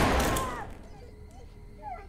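A single loud gunshot in Wolfenstein II: The New Colossus bursts at the start and decays into a ringing tail, followed by quieter ambient sounds.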